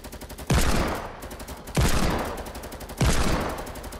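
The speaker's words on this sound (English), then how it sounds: "Keep shooting." Three heavy gunshots ring out in a Fortnite match, each a sharp loud blast with a long decaying tail, spaced roughly a second and a quarter apart over a steady rhythmic background pulse.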